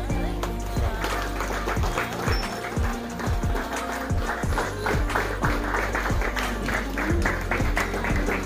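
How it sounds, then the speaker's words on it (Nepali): Audience applause at a Tamu Losar gathering, scattered rhythmic claps continuing throughout over a low sustained musical drone and background murmur. "कृपया सबैजना ताली बजाइदिनु होला"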